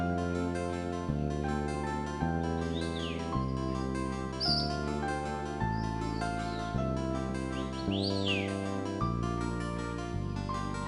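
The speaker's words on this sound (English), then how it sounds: "hear the birds singing" Small birds chirp and trill in a broadleaf forest, brief high calls scattered over a steady bed of soft instrumental music that dominates the mix.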